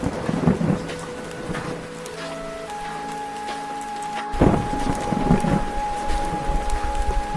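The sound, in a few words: heavy rain with thunder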